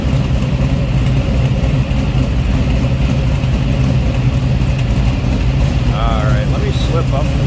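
A 1965 Chevrolet Nova two-door hardtop with a 350 V8 rumbles steadily at idle, a low continuous burble with slight revving toward the end, close and loud throughout.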